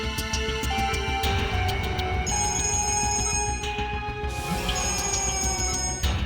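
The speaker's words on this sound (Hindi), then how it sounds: "डीसीपी चित्रोले साहब का बार-बार फोन आ रहा है।" A telephone rings repeatedly with an insistent electronic bell tone, loud and close over a busy background hum, persisting throughout without pause.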